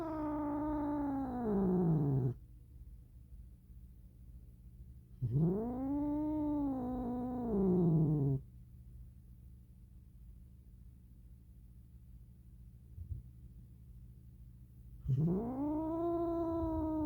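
Calico cat caterwauling in three long, wavering yowls that rise and fall, each lasting two to three seconds, loud and close, with quiet pauses between and a low steady background hum.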